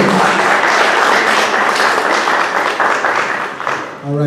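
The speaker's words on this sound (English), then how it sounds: "can we get a round of applause for Phyllis?" A town hall crowd in Salinas, California, gathered about tenants' rights, gives Phyllis a round of close, lively applause that tapers off as a voice begins to speak.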